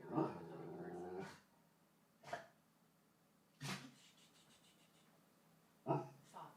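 A dog gives a low growl for about a second, followed by a few short, quieter grumbling huffs spaced apart. The sounds are close but soft, with no talking.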